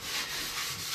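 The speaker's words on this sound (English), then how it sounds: "I'm just finish things off by applying a bit of linseed oil." Steady close-up rubbing of linseed oil across a pine board, a soft continuous hiss with gentle swells in pressure and no pauses, heard alone.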